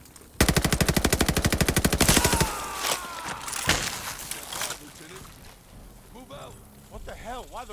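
Rapid automatic gunfire from the Call of Duty Vanguard video game, a long dense burst of shots followed by scattered single shots and lingering echoes.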